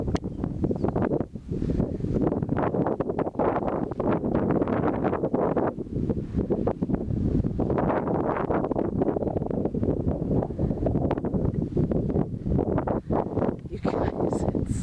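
Wind buffets the microphone outdoors on an Oklahoma property, a loud, gusting roar that swells and dips throughout with rustling underneath.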